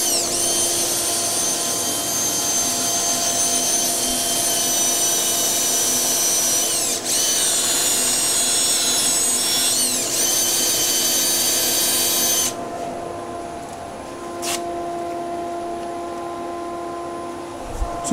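A rotary sander fitted with 180-grit paper works wood with a loud, steady high-pitched whine and a hissing rasp, shifting pitch briefly before settling into a quieter, steady whir near the end.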